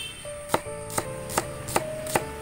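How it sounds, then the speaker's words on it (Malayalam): A knife chops vegetables for sambar on a board with five evenly spaced, crisp thuds. A steady tonal hum runs underneath. "ഇനി നമ്മൾക്ക് സാമ്പാറിന് അരിയാം."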